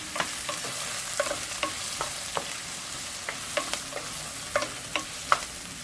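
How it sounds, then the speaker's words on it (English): Onions sautéing in a pan for methi aloo, a steady soft sizzle broken by regular light clinks and scrapes of a spoon stirring, close and alone. "Now we're going to saute them for about 2 minutes."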